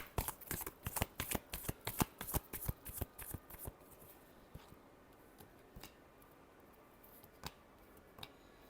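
Tarot cards being shuffled by hand, a quick run of crisp riffling snaps in the first few seconds, then slower, sparser flicks, close and quiet.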